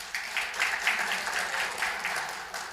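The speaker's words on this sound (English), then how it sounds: "And, yes, another round of applause." Audience applause at a Tucson town hall, a steady fairly soft patter of many hands clapping throughout, heard from a distance in a large room with no talking over it.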